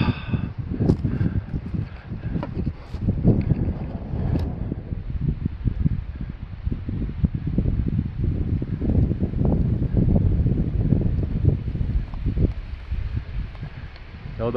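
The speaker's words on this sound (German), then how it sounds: "Es ist schon wieder ziemlich windig." Strong wind rushes through an alpine valley in Ticino, a constant rough roar buffeting the microphone with gusty surges, while someone talks briefly over it.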